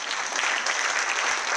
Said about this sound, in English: Can we clap hand for Dave Hamilton sitting there